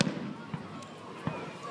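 Fireworks burst at a distance at a public display, a few scattered muffled booms over crowd ambience, with people talking nearby.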